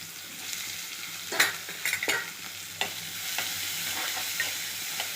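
Onion, mustard seeds, urad dal, cumin, fenugreek and asafoetida sizzle steadily in a little oil for sambar, with a spoon scraping and clinking against the pan in a few sharp strokes over the constant frying hiss.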